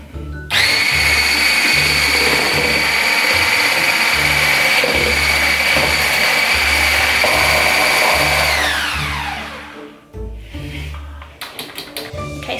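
An electric hand mixer whirring loudly and steadily through wet banana bread ingredients in a bowl, pitch holding for several seconds before winding down and stopping, followed by brief clatter.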